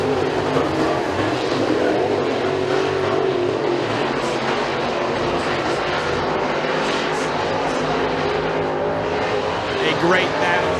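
Race cars roar around a dirt oval at McKean County Raceway during a heat race, two battling side by side for second down the back straightaway, a dense, loud, continuous engine drone with a commentator talking over it.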